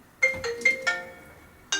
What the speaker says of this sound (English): Mum's ringing me.